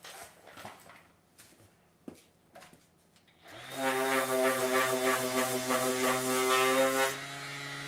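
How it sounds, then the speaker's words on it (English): Wood being sanded with sandpaper, a few faint knocks and scrapes followed by a steady, loud rasping hum lasting several seconds up close. "Let me hit this with some sandpaper."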